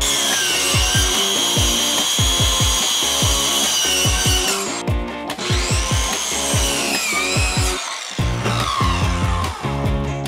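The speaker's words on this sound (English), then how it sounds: "I got my circular saw in stealth mode so we won't make too much noise." A circular saw cuts wood during a small bathroom renovation in Hawaii. Its motor whines loudly while the blade bites repeatedly in rhythmic rasping strokes, with a short pause midway before cutting resumes.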